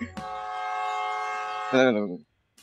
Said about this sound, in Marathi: Railway station.